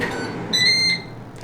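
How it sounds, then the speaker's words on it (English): A pair of steady electronic beep tones, bright and clear, from a Ninja Foodi Max dual zone air fryer signalling preheat finished, over a quiet background hum. "That's the beep, and it's telling me it's ended."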